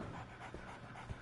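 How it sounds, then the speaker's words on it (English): A dog in the video game Sherlock Holmes The Awakened pants softly and rhythmically, a faint breathy huffing at close range with no talk over it. "So, Barnes has a dog now."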